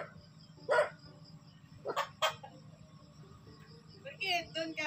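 A person imitates dog barks in a few short bursts, sharp and close, over a low background hum.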